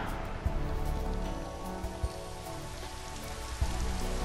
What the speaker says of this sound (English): It is now cloudy, and now let's make it rainy.